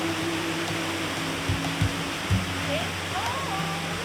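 A waterfall near Schofield Pass in the Colorado mountains pours as a steady broadband rush of water, with a low hum and a few soft thumps underneath and faint speech-like tones drifting in.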